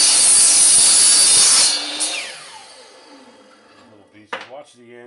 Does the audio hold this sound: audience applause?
no